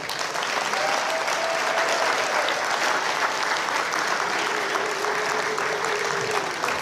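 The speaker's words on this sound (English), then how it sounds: "I would like to request that if we can give Monicah Juma a round of applause" A formal honoring ceremony fills with sustained, loud applause from a large audience, steady and even for several seconds, with a faint voice faintly audible beneath the clapping.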